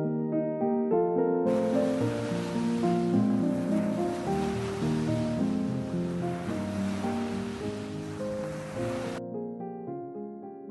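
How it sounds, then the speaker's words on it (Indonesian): Waves on Lake Toba at Arofan beach, whipped up by strong wind, rush in a continuous broad hiss under steady background music, fading in and out over several seconds. "angin yang cukup kencang, sehingga membuat ombak di Danau Toba ini juga sedikit lebih keras dari hari-hari sebelumnya"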